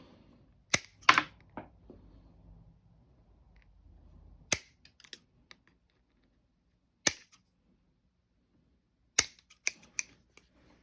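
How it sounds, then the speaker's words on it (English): Scissors make a few sharp, isolated snips while cutting a bow light mount, crisp close clicks spaced seconds apart with near silence between. "I just like using these scissors to make this cut."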